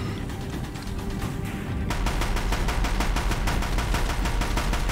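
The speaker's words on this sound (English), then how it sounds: "There's a death gun I can now access." Death gun firing in Horizon Zero Dawn, a rapid, relentless stream of evenly spaced shots that grows louder and denser partway through and keeps hammering to the end, with no voices.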